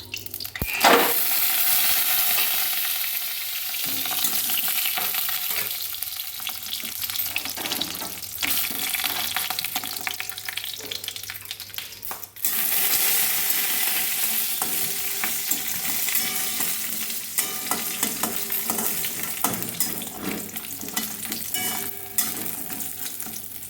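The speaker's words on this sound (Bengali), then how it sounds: "এখন এই যে কড়াইতে তেল দিয়ে দিলাম, ডালের বড়িগুলো ভেজে তুলে নেব আগে," Lentil dumplings (dal bori) frying in oil in a wok, a steady, loud sizzle running throughout with stirring clatter and a brief surge near the middle, no voices.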